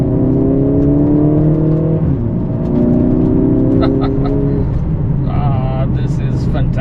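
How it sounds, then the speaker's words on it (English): A 2025 Mercedes-AMG CLA 45 S Coupe's handcrafted 2-liter inline-4 drives in Sport Plus mode, a loud, steady engine drone heard from the cabin with pitch rising and settling as it pulls, and a faint voice underneath. "It's a handcrafted AMG 2-liter inline-4, right? It's 4-cylinder engine, but it does deliver in terms of power delivery."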